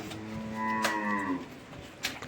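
A freshly calved cow at a cattle fair lets out one long, drawn-out moo, fairly faint against quiet background noise, with no talking.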